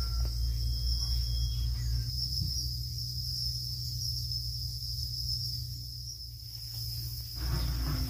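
Crickets kept in coconut fiber rearing bags give a steady, continuous high-pitched chirping drone at close range, with low background hum underneath and no talking.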